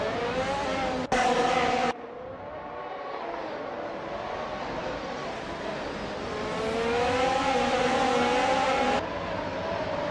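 Race car engines roar past in a racing video game, an Aston Martin AMR22 among them, with sustained harmonic whines that shift in pitch and a sharp cut near the start, loud and continuous.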